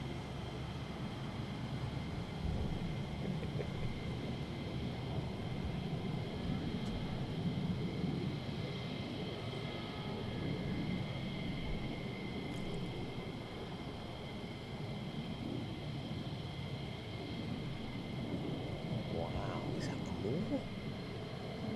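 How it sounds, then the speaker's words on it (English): An F-15 fighter jet taxiing at RAF Lakenheath gives a steady, continuous low engine rumble and whine at a distance, holding an even level throughout with no speech. "it is another F-15 taxiing out"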